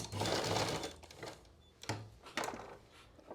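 A sewing machine stitches a salwar waistband in short close bursts, a fast whirring run followed by a few brief stops and restarts, with no speech.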